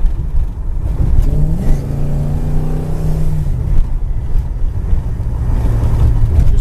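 A 1966 Chevelle Malibu 275 horsepower V8 with a four barrel carburetor kicks down and revs, its engine note rising and then falling, recorded close with heavy wind buffeting the microphone.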